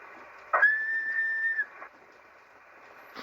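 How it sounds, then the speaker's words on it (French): A single sustained whistle tone rings out for about a second over a hissing, static-filled 20-metre shortwave band near 14 MHz, with faint crackles around it. "ceux qui font ça, ceux qui sifflent hein,"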